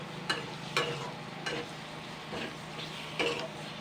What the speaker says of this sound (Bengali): এক চামচ বেসন গুঁড়োটা দিয়ে দিচ্ছি এটা দিয়ে আমি জাস্ট দুই তিন মিনিট হালকা নাড়াচাড়া করে নেবো